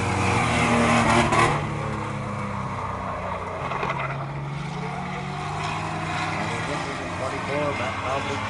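Racing trucks roaring through the last lap of a short-track qualifier, a loud sustained engine drone with a swell early on, under a commentator's steady talk.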